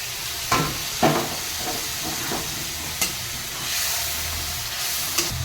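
Hot water used to wash the spices goes into a pan of spice gravy, raising a loud continuous sizzle and steamy hiss with a few sharp clatters of a utensil against the pan.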